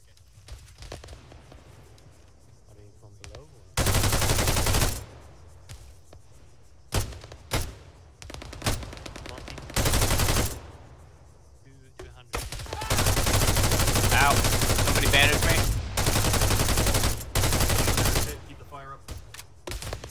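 Loud bursts of automatic gunfire from an Arma 3 firefight, long sustained volleys and shorter clusters of shots alternating with brief lulls, close and harsh, with players talking in the gaps.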